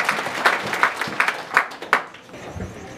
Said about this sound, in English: Clap your hands beautifully for Jesus Christ of Nazareth.